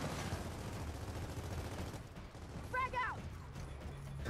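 Gunfire in a shooter video game, shots rattling through a wall in rapid bursts, fairly distant and muffled over game background noise.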